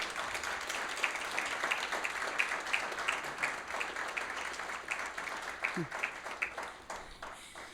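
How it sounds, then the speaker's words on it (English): A crowd at a Memorial Day breakfast applauds with steady, dense clapping for several seconds before it begins to thin out. "Let's give him another round of applause"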